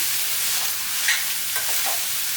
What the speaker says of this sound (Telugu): బీట్రూట్ వేసేసి మొత్తం తాలింపు అంతా బాగా కలిపేసుకోవాలి